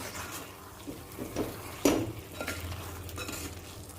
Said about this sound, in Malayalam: ഇടയ്ക്ക് നമുക്ക് ഇതിനെ ഒന്ന് ഇളക്കി കൊടുക്കാം